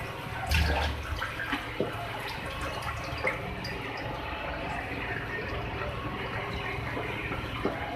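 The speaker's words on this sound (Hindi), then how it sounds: "चिकन को थोड़ा मज़ीद गलाने के लिए इसमें वाटर ऐड कर रही हूँ मैं, थोड़ा सा आधा कप के करीब" About half a cup of water is poured into simmering chicken bhuna masala, a low, steady splashing trickle over a bubbling pot with a few clinks, all heard close up.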